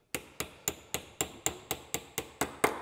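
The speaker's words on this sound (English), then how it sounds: "knock this pin out." Hammer blows on a punch driving out a pin on an MGB oil pan, eleven sharp metallic strikes at an even quick rhythm, close and alone.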